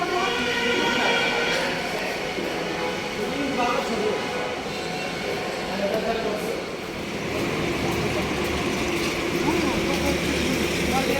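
A metro train runs overhead at Uttara Diabari in Dhaka, heard from street level as a steady, loud broadband rumble that holds for the whole stretch and swells slightly near the end.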